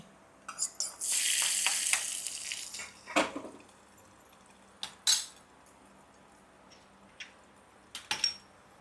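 Curry leaves dropped into hot oil for tempering a coriander chutney, a loud burst of sizzling and spitting for about two seconds, followed by scattered clinks of a utensil and brief short hisses.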